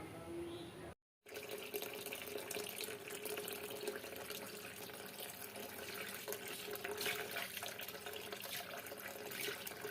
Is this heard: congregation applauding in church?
no